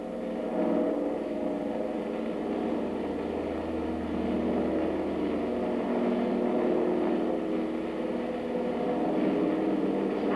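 A Shorts Seamew aircraft engine runs up on the ground, a steady, loud droning roar with a low throbbing rumble that holds level throughout, with no talk over it.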